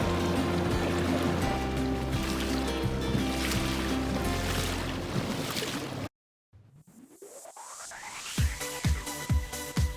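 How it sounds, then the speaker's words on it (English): Small boat driven by an ePropulsion electric outboard, giving a steady motor whine over rushing water for about six seconds. It then cuts off abruptly, and different rising and clicking sounds follow. "this is our first kind of long distance test of the e-propulsion outboard"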